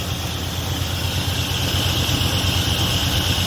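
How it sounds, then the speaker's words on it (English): A Dodge Ramcharger pulled out of the weeds after long disuse idles steadily in a low, even rumble with a faint hiss. It is close and continuous, with no talk. "Engine's happy."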